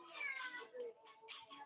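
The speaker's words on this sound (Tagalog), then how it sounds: "Makulit tong pusa na itong paluin ko to, eh." A cat meows in a few short, whining calls, close and fairly quiet, with a person speaking around the calls.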